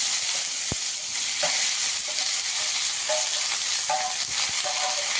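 Potatoes and cauliflower frying in a pan over a cumin seed and dried chilli tempering, a steady close sizzle throughout with a few sharp crackles and pops, no voices.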